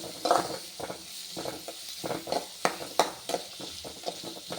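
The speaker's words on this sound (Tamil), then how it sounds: "வெங்காயம் கொஞ்சம் நல்லா வதங்கணுங்க." Onions cooking in a hot pan for a liver fry, with a soft sizzle under a series of close spoon scrapes and stirring knocks, no talking.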